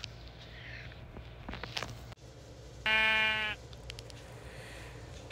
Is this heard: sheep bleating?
yes